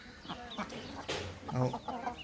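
A four-month-old desi rooster weighing about 2.5 kg gives a few close, soft clucks and short throaty calls, spaced irregularly over a quiet farmyard background.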